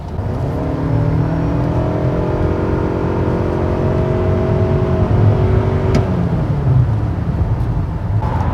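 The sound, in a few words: Toyota Camry Hybrid accelerating on highway in sport mode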